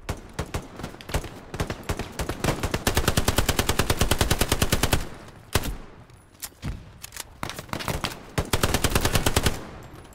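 Automatic gunfire in the World War II shooter game Hell Let Loose, set in a winter battle at Elsenborn Ridge, rattles in rapid sustained bursts with short gaps, loud and near, alongside scattered single shots.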